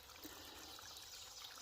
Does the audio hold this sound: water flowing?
yes